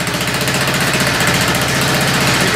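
A cold Craftsman LT4000 lawn tractor engine runs steadily while warming up, a loud, continuous close-up rumble with a fast rhythmic throb throughout, no talking.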